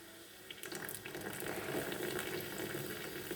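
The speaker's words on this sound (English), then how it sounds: "The tea is boiling." Tea bubbling at a steady boil in a pot, a continuous soft hiss and crackle of bubbles that swells slightly and holds steady, close by with no voices.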